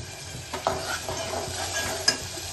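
Ground masala paste goes into a hot pan for katachi aamti, making a low sizzle with soft stirring scrapes and a sharp clink of a utensil near the end, with no voices.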